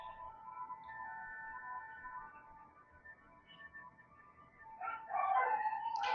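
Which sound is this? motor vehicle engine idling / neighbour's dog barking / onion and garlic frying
neighbour's dog barking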